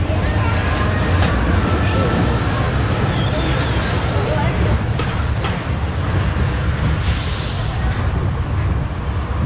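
Ride noise from the RipTide roller coaster at the Virginia State Fair, with a continuous loud rumble and rattle of the cars and wind. Bursts of riders' voices and fairground chatter are mixed in.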